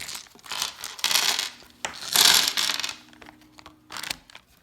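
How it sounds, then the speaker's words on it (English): Plastic dice from a Batman: The Animated Series Shadow of the Bat board game are handled, clicking and rubbing together in several short bursts separated by brief pauses. "And then finally, these are the dice."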